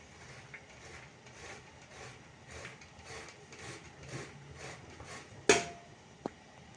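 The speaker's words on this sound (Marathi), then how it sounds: "आता आपण छान मस्त त्याचा किस करून घेऊया।" Boiled sweet potatoes are rubbed over a grater in a kitchen, giving soft, repeated scraping strokes at a fairly even rhythm, close and quiet, with a sharp knock near the end.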